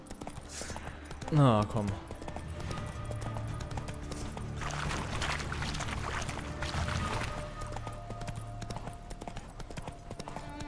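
Horse hooves clip-clop in a steady rhythm while riding in The Witcher 3: Wild Hunt, with a brief whinny-like voice early and someone talking over the gait.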